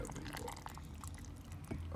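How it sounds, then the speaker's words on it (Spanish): Water pours into a blender as a soft, steady splashing and trickling that runs unbroken for two seconds at low volume, with no talk over it. "Pues le vamos a echar agua."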